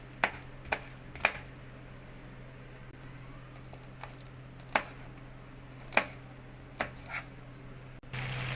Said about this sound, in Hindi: अब इसमें हरी मिर्चें काट के डालने हैं। मिर्चें काट लेंगे।